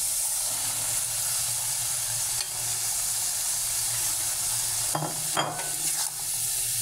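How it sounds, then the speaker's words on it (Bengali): Pointed gourd pieces fry in a pan of cooked-down spice paste and oil, giving a steady close sizzle with a few louder stirring scrapes near the end. "আমার মশলাটা কষানো হয়ে গেছে। এখন সবজিগুলো দিয়ে দিচ্ছি।"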